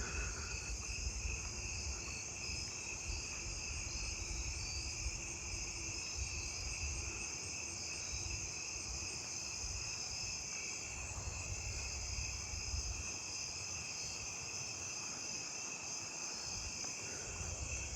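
A steady, continuous high trill from two-spotted tree crickets fills the humid night air, layered with other distant insect calls and no talking.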